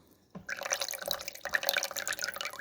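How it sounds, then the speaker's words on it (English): Water drips and trickles from an Al-Jazari water wheel pump into a container, starting after a brief quiet moment, then a close, busy patter of drops and small splashes that continues to the end. "So as the wheel moves to your right, the water gets pushed in"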